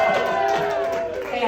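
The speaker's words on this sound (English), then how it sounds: "Hey, I got an applause." Audience at a comedy roast battle breaks into applause and cheering, a dense wash of clapping and crowd noise that fades slightly, with voices mixed in.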